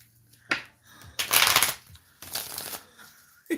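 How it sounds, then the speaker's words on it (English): Playing cards are shuffled by hand in several quick, riffling bursts, close and crisp, separated by short pauses against a quiet indoor background. "I done shuffled out these cards because my fingers is starting to hurt."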